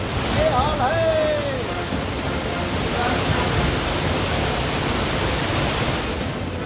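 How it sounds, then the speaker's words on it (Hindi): Floodwater from torrential rain in Chitrakoot rushes and roars as a continuous, loud, broadband torrent with no break, and a faint voice cries out briefly early on. "सैलाब की ये गड़गड़ाहट सुनकर लोग सहम गए।"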